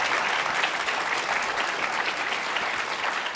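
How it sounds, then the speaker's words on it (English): An audience at a summit claps in a dense, steady round of applause that fills the room evenly from start to finish, with no voices over it. "so a round of applause for Junjun"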